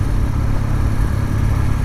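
Motorcycle ridden over a bumpy road, a steady loud low engine rumble with road and wind noise filling the whole stretch, close and continuous without talk.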